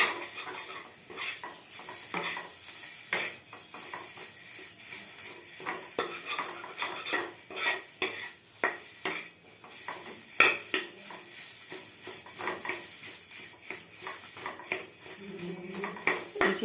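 A metal spatula scrapes and stirs food frying in a kadai, giving repeated clattering scrapes at an uneven rhythm over a faint sizzle, close and moderately loud, with no talking.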